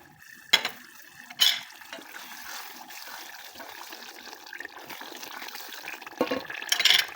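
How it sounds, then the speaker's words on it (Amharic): Water is poured into a pot of white shiro with berbere in a home kitchen, a soft, steady trickle and splash with a few sharper clinks and knocks from the pot, moderately quiet and close. "አሁን ውሃ ከልስበታለሁ ማለት ነው። እንደዚህ ውሃ ከልሳለሁ።"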